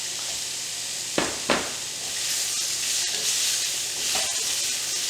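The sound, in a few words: prawns stir frying in a pan with ginger and lemongrass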